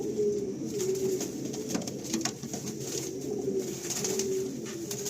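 Malwai pigeons coo steadily in repeated soft throaty calls, close and clear, over a constant background hum with no talking.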